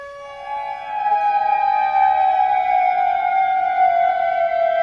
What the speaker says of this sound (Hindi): अब देखिए दूसरा सायरन है।